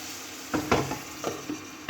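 Chopped tomatoes frying in a pan for egg masala curry give a steady hiss of sizzling, broken by several sharp scraping strokes as a utensil stirs against the pan, close and fairly clear.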